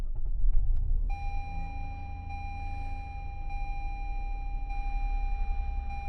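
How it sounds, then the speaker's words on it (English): Toyota Highlander engine idling just after start, a low steady rumble while a thin, high electronic tone sets in and holds, with no voices. "so I started my car"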